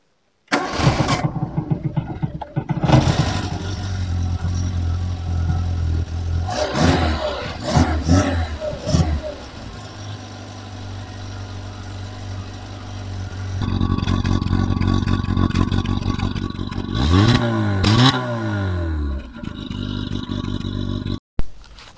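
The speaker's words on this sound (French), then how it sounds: "Je vais vous faire un petit démarrage quand même" Renault Super 5 with a Cléon 1.1-litre engine and a sticking starter cranks and catches, then revs in several bursts and idles roughly, loud and close, with no talk.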